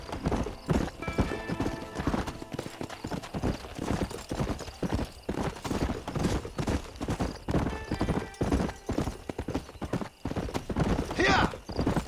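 Horse hooves galloping in the video game Red Dead Redemption, a rapid steady clip-clop rhythm pounding close throughout, with occasional snorts and a voice calling out over it.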